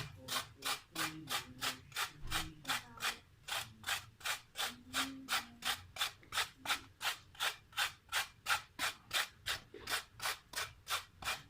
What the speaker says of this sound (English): Just grate it, carrot over the whole thing.